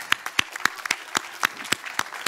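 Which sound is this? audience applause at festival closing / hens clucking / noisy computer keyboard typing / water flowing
audience applause at festival closing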